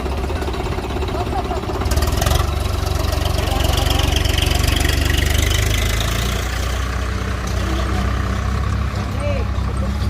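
A pickup truck engine idles close by at a rice grain market, a steady low rumble with a faint knock, while people talk intermittently over it.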